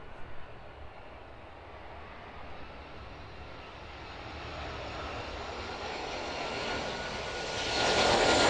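An airplane landing at East Midlands Airport in a slight crosswind, its engine roar steady and close, then swelling louder toward the end as it touches down.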